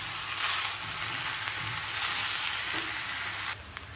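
Egg corn fried rice with soy sauce and vinegar sizzles and hisses steadily in a pan as it is stirred, a loud continuous frying crackle that eases slightly near the end.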